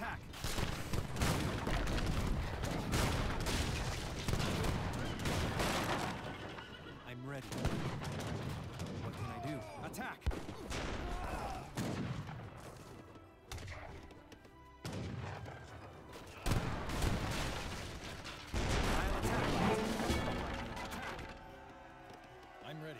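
Battle gunfire and artillery in the Age of Empires III campaign, Battle of Morristown: repeated musket volleys, crackling fusillades and heavy booming cannon blasts arrive in loud bursts with brief lulls, and voices speak over parts of it.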